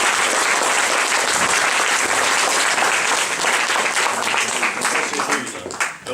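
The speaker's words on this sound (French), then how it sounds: "Donc Monsieur Patrick Dandré, vous pouvez l'applaudir encore." An audience at a staged mock trial of Alceste applauds expert Patrick Dandrey, a loud, dense wash of clapping that holds steady for several seconds before thinning out and fading near the end.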